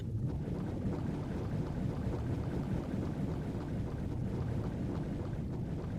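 Steady low rumbling water ambience in the stealth video game Metal Gear Solid 3, a continuous wash of lapping water with a windy hiss, even and fairly quiet throughout with no talking.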